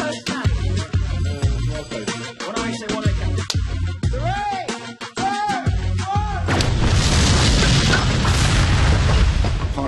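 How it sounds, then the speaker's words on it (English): Heavy booms and bursts sound from a Doctor Who Dalek being blown up in a petrol explosion, loud and dense, ending in a sustained roaring rumble. "it was such a huge, big, great explosion"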